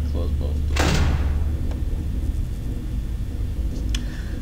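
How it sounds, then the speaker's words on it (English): Doors close in the Five Nights at Freddy's Reborn game, a single heavy thud followed by a faint click, under a low rumbling background, with a person talking around it. "I'm just gonna close both doors."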